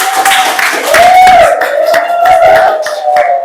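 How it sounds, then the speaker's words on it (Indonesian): Students in a junior high civics class clap for a group invited to present, a steady patter of hand claps with a teacher's voice running over it. "Tepuk tangan untuk kelompok 1."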